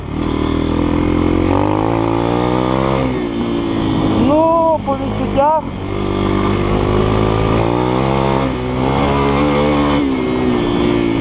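GEON X-Road 250 PRO motorcycle engine revving while being ridden, a loud steady drone with pitch rising and dipping through throttle changes and gear shifts, with someone speaking over it.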